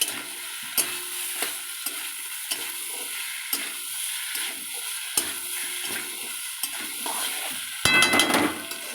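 Pointed gourd curry with spices sautéing in a pan, a steady sizzle broken by repeated spoon scrapes and stirs, ending in a louder burst of frying and metal clatter; no talking.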